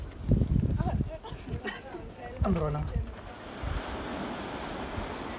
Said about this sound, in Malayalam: കടലോ കടൽ കടലോ കടൽ കണ്ടോളി മക്കളായ കടൽ